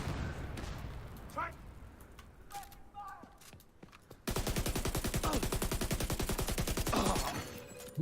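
Sustained rapid automatic gunfire from a sci-fi shooter video game hammers loud and fast in the second half, after a quieter stretch of scattered game sounds and effects.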